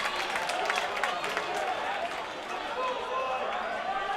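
A steady, moderately loud crowd noise of cheering and clapping fills the gym at a Rib Lake versus Prentice high school boys basketball sectional final, with faint talk mixed in.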